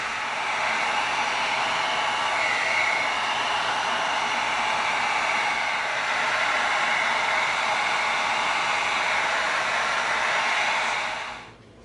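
Steady, loud rushing blast of a heat gun blowing hot air over dry EVA foam wraps to seal and tighten the surface, unbroken for about twelve seconds before cutting off.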